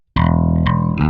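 Bass guitar played through the distortion channel of a GR Bass Dual head, blended with clean signal: a few sustained, gritty notes ringing loud and close after a brief silence, with a note change partway and another near the end.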